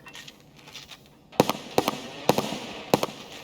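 A series of sharp grenade blasts in the video game Escape From Tarkov, about five in quick succession, loud and punchy over a steady background hiss.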